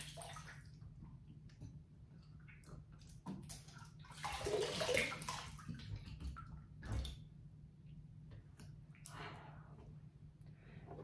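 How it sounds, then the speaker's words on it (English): Face cleanser rinsed off with splashes of water from a sink during a morning routine, soft intermittent splashing and dripping close by, with a louder splash burst midway and quiet breathing between. "So then we're just gonna rinse this off."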